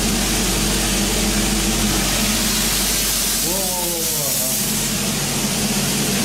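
A loud, continuous hiss of steam escaping under pressure fills the clip, with a brief faint voice partway through.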